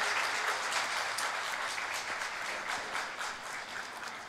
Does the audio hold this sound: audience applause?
yes